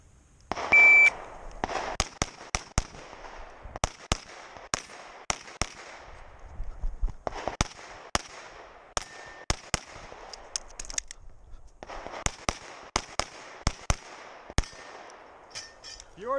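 Gunshots fire in rapid, uneven strings during a competitive shooting stage, with a start beep first and loud sharp cracks in clusters separated by brief pauses.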